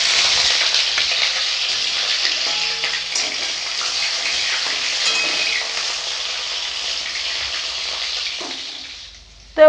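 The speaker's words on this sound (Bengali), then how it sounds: "প্রথমে আমি উচ্ছাগুলো ভেজে নেব।" Bitter gourd pieces frying in hot oil in a pan, giving a steady, close hiss of sizzling throughout that fades slightly near the end.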